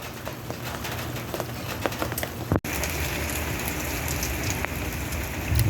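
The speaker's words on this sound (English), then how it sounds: "Now it's raining." Rain from a tropical storm falling on desert ground, a steady close hiss of drops with scattered louder individual splats, briefly broken by a sharp click before continuing.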